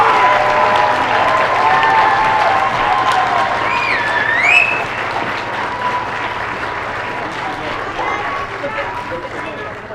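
Audience applause after winners are announced at a 2016 student invention convention awards ceremony, steady clapping and some cheering filling the whole stretch with a brief whistle-like sweep partway through.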